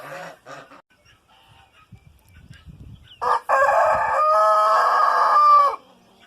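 A rooster gives one loud, close crow of about two seconds, preceded by soft scattered clucks and rustling from other fowl nearby.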